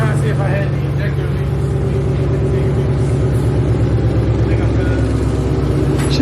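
A Chrysler 6.1 SRT8 V8 with a newly installed intake manifold runs loud and close at a steady idle, its low throbbing pulses continuing throughout while someone talks over it.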